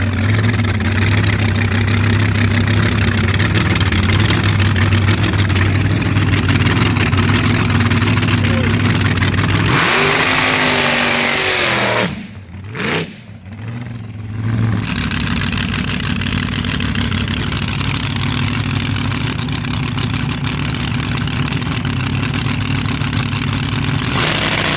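A moonshine dragster's engine idles loud and close with a steady low rumble, then briefly revs up and cuts out for a couple of seconds before rumbling on at a steady idle.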